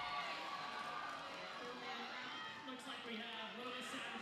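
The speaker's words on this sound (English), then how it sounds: "The crowd is getting loud here." Roller derby crowd at a junior championship bout growing louder, a steady wash of cheering and shouting that swells late, with an announcer talking over it.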